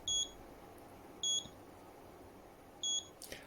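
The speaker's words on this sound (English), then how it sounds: "It's beeping like that when you are not at the required distance." Three short electronic beeps from a Motorola Care 3-in-1 non-contact baby thermometer (MBP66NT), warning it is not at the required distance, evenly spaced about a second and a half apart, sound faintly over a quiet background hiss.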